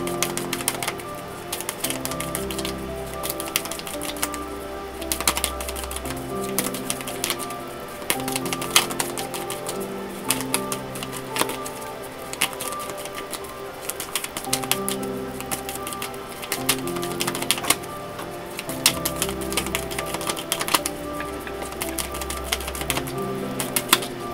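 Oracle cards being shuffled for a tarot reading give off quick, dense papery clicks and riffles that continue steadily for the whole stretch, over soft sustained background music.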